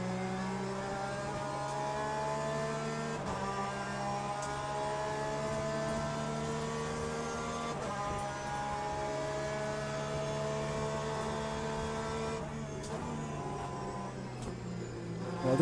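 LMP2 prototype race car engine at Sebring, a sustained, high-pitched howl climbing through the gears, with short dips at each shift and a steady, fairly close drone.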